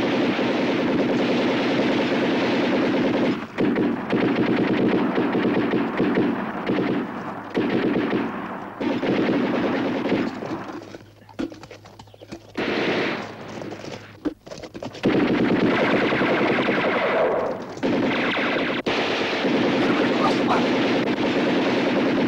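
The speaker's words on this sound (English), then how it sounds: "Give us some cover fire!" Machine gun cover fire in a war film battle set on Crete, loud dense bursts of automatic gunfire with artillery-like blasts that roar nearly continuously, broken by brief lulls and resuming at full force, with a voice shouting faintly beneath.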